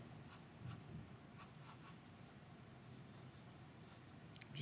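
Faint scratchy strokes of a pencil on paper during quick gesture sketching of a figure, coming in short repeated bursts at a quiet level with no voices.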